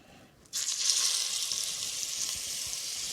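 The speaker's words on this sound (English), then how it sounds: "So all I'm doing is just searing all sides of this brisket" Brisket searing in a hot, oiled Dutch oven: a loud sizzle bursts in suddenly and holds as a steady, close hiss of frying fat, with no voices.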